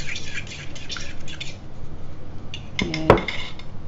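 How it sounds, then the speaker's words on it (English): A fork whisks beaten egg in a bowl with a run of quick light scraping clicks, followed by a sharp ringing clink against the dish. "So let me do a quick stir of my egg."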